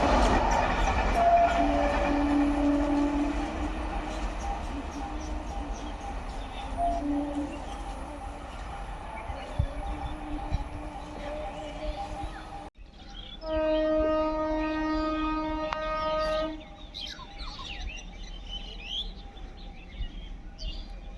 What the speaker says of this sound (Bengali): Lalgola Sealdah MEMU passenger train Murshidabad junction ঢুকছে